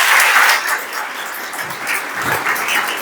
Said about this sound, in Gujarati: તો એકવાર જોરદાર તાળી તમામ માટે થઈ જાય